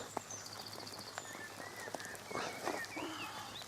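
Rain patters steadily over the water at a gravel-pit carp lake, a soft continuous hiss with scattered drips, while birds call faintly in the background and a brief louder rustle swells midway.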